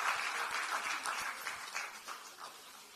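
A crowd at a Democratic Party ceremony for National Assembly speaker nominees claps in steady, dense applause. It stays moderately loud and even throughout with no voices standing out.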